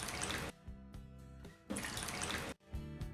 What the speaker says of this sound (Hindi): और 3 कप पानी डाल दें